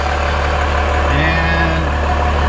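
A 12V Cummins diesel swapped into an 80 Series Land Cruiser runs with a steady, loud, low rumbling drone that holds even throughout, and a faint tone rises briefly midway.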